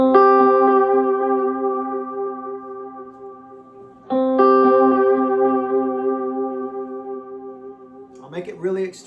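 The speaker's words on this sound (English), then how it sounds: "So right now we're hearing the Strymon timeline pedal." A guitar played through a Strymon Timeline delay pedal with the modulation depth turned up: two sustained, shimmering chords ring out and decay with warbling, slightly detuned repeats. A brief burst of speech comes in at the end.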